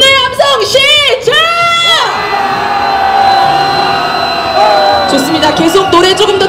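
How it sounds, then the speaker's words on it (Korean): A street protest crowd marching past Itaewon for Yoon Suk-yeol's removal lets out a loud, sustained roar of angry shouting and whooping, close and massed, with a few voices rising above the rest. "분노의 함성 시작!"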